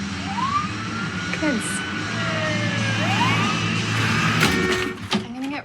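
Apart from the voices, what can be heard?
ambulance siren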